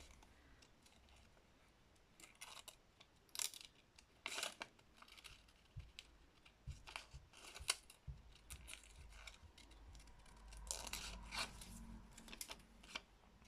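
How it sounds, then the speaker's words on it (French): Scissors snipping vellum tracing paper for craft embellishments, a quiet series of short crisp cuts spaced irregularly at close range, with no voices. "ce n'est jamais le ciseau qui bouge, c'est le papier qui doit bouger"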